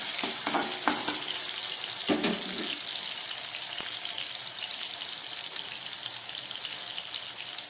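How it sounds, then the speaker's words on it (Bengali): Lightly salted potato pieces fry in a pan with a continuous close sizzle, broken early on by a few clattering stirs before the hiss carries on steadily. "খুব ভালো করে আলুগুলোকে আমি ভেজে নিচ্ছি।"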